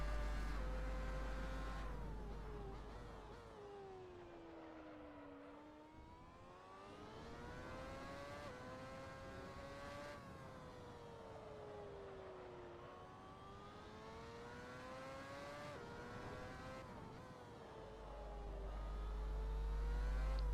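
A race car in a racing video game drives a full-speed lap. Its engine whines steadily and loudly, climbing and dropping in pitch through the shifts and corners, with no talking.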